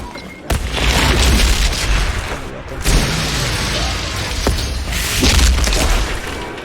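A weapon fires in an end-game video game build, with loud booming blasts rolling over a dense, continuous wash of game noise, close and heavy throughout.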